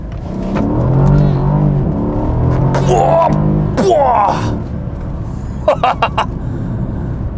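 Mercedes CLS63 AMG with its 5.5 liter engine accelerating hard through first and second gear, a loud close-up engine roar rising in pitch with a brief drop at the shift, ending in quick bursts.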